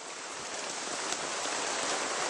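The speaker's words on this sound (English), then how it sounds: "Hitting the umbrella really hard." Hail pelting an umbrella during a severe summer thunderstorm, a dense, steady drumming hiss that stays loud and close for the whole stretch with no voices.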